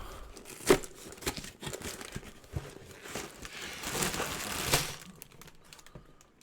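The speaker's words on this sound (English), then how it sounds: "It's literally a tab where you press down and you can start ripping this open." LEGO Optimus Prime packaging being torn open by a press-down tab: soft crinkling and a few sharp ripping bursts, close and fairly quiet, with no talk over it.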